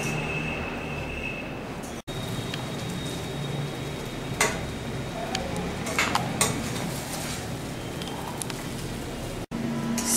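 Navratan rice pulao with vegetables, dry fruits and raisins is stirred in a pan, giving a continuous close scraping and rustling texture with occasional sharper metallic scrapes and knocks.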